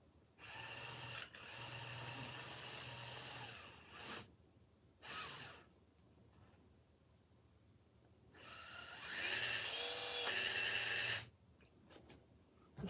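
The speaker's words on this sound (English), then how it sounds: "Sounds like the tires are rubbing the bottom" A futuristic slot car sitting too high, its tires rubbing the bottom, whirs in several bursts of motor whine with scraping rasp, alternating with quiet pauses, fairly close.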